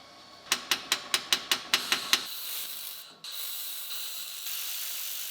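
Tack welds on metal parts for a computer arm, eight sharp crackling zaps in quick even succession, close and distinct, followed by a steady hiss.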